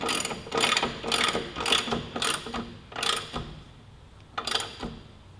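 A ratchet snugs the rear axle nut on a Yamaha R3 motorcycle, giving six or so quick clicking bursts in an uneven rhythm, close and clear with no talk.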